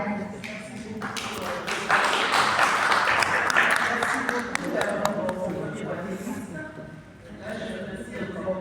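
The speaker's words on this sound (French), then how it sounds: "On applaudit la marraine." An audience applauds the godmother at a ceremony: a burst of clapping swells for a few seconds, then thins out, with voices speaking over it and around it.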